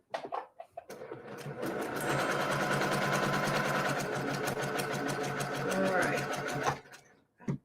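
A sewing machine runs in one continuous, fast stitching burst of about six seconds while sewing a quilt block, close and steady, with brief talk before and after.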